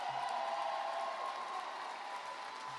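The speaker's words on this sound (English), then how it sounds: "Let's give a huge round of applause to our city council members" Audience applause for newly elected city council members at a Minneapolis mayoral inauguration. The sound is a faint, distant wash of clapping from a crowd under a steady tonal hum, fairly even throughout.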